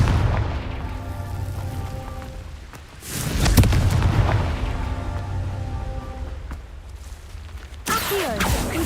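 Confringo spell blasts in Hogwarts Legacy, heavy booming explosions with a sharp burst near the middle and another crackling hit near the end, over a low game ambience, no speech.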